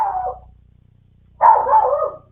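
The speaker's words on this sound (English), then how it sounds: "they have not been barking all night and just started" A dog barks in two bursts, a short one at the start and a louder, longer run of barking after a pause, with a low hum underneath.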